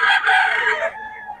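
A quality gamecock rooster at a Bocaue farm crowing loudly and close, one long strained cock-a-doodle-doo that trails off into a quieter drawn-out ending.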